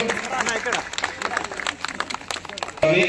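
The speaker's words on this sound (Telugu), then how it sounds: "గట్టిగా చప్పట్లు." At a Mudiraj association swearing-in ceremony in Sircilla, a crowd claps steadily amid hubbub and overlapping voices, ending with a louder burst at the close.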